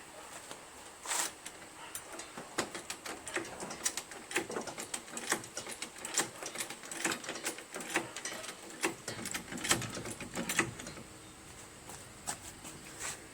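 Irregular clicking and light tapping as a Toro Wheelhorse 616Z zero turn lawn mower is jacked up, close and fairly quiet, with a steadier run of clicks in the second half.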